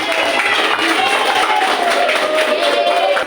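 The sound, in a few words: class applauding a student group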